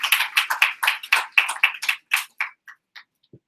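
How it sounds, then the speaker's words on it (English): A small audience claps for Uncle Jackie at an evening business event, a short burst of separate, distinct hand claps that quickly thins out to a few scattered claps and falls silent. "Can we give him a round of applause?"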